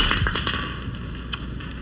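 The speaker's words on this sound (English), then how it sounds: "There goes my glass." A drinking glass is knocked over and breaks at breakfast, giving a few light glassy clinks and a small sharp crack against a quiet indoor background, with no talking.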